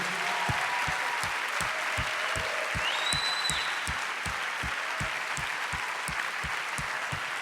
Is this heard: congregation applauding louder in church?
yes